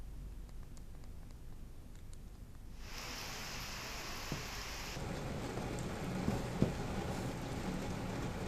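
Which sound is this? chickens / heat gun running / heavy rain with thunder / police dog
heavy rain with thunder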